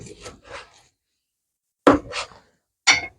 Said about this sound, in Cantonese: 跟住將番茄切粒